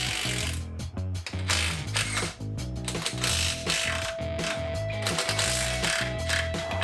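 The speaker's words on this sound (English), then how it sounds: "So I gotta fish this 5/8 wrench down in here to get on those." A 5/8 wrench works the bracket nuts on a Jeep YJ, giving a steady, close run of rapid mechanical ratcheting clicks with a dense, busy background throughout.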